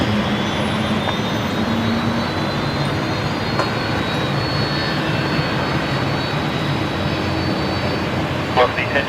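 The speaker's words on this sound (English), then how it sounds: "definitely a Fokker on push and start there. Can't miss that sound." Fokker airliner engines spooling during push and start at Brisbane Airport, a steady broad roar with a high whine, running continuously beneath talk and radio chatter.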